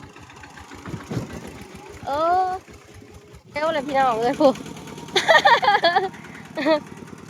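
A small two-wheel tractor engine chugs steadily in the background while people talk loudly over it, with voices rising and falling across the whole stretch.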